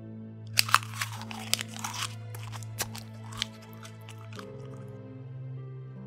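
Crunchy, wet chewing of a torn paper talisman in a horror radio drama, a run of close, sharp crunches and squishes over a steady low drone, thinning out in the final seconds.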